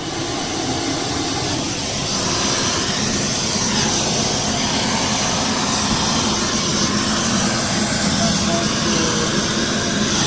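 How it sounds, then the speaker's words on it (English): A shop vacuum runs loud and steady next to a Bosch washer with an E:04 error, its broadband roar constant from start to finish. Speech is faint or absent beneath it. "Let me turn on the shop vac."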